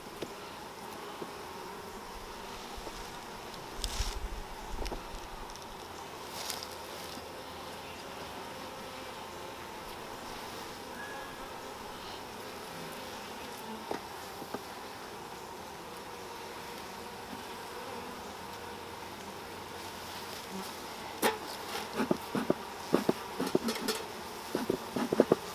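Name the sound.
honey bees buzzing during hive inspection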